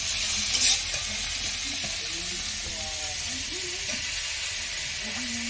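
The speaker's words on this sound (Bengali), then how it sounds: "এবার আমি এই পেঁয়াজ কুচিগুলি ভেজে নেব।" Chopped onions fry in white oil with a constant close hiss and sizzle, while a faint voice murmurs underneath.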